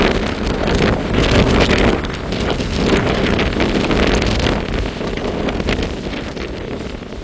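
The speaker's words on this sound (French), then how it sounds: "La force des rafales, c'est épouvantable." Strong storm gusts from Storm Floriane in January 2025 roar loudly and continuously into the microphone, a dense buffeting rush that swells and eases slightly with no voices.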